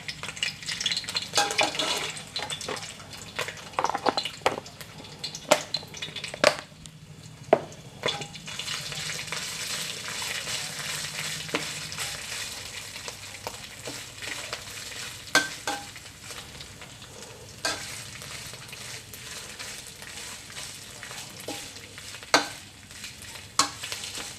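Red curry paste with pepper, chili and shrimp paste stir-fried in a pan for a spicy catfish dish, giving steady low sizzling with repeated sharp scrapes and clacks of a spatula against the pan.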